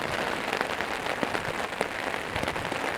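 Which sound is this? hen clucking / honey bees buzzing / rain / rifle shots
rain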